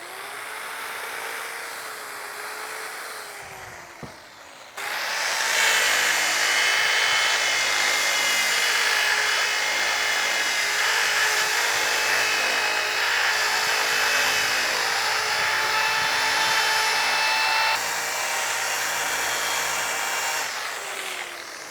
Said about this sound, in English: So now I'm starting with the 600 grit on the rotary sander.